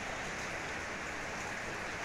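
Heavy rain falls steadily in a flooded street in northeastern Brazil, a dense continuous hiss of rain on surfaces and running water, loud and unbroken throughout.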